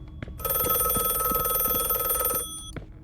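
A telephone rings in the detective video game The Last Case of John Morley, a single sustained electronic bell trill lasting about two seconds, loud and close, with faint clicks before and after.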